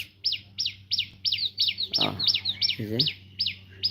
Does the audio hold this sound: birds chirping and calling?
yes